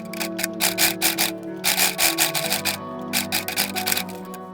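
A sewing machine stitches mesh onto a corset in quick, rhythmic bursts of needle clatter, loud and close, pausing briefly between runs with no talk.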